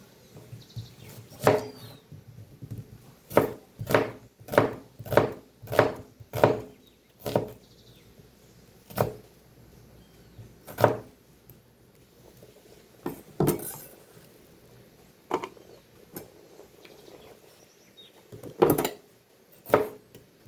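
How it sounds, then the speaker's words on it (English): Knife chopping on a wooden board in quick runs of sharp taps, a rapid burst then slower scattered chops, close and clear with no talking. "let me set this aside and do the chopping now."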